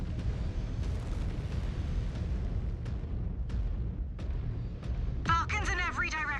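Artillery being destroyed in Mechwarrior 5: Clans, a heavy, rumbling explosion with scattered sharp blasts and booms, followed by a brief burst of radio chatter near the end.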